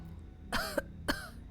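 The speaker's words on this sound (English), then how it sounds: "He coughs gently." A young man, sick and hoarse, coughs gently at the top of the stairs: two short, soft coughs about half a second apart, near and fairly quiet, with no talking.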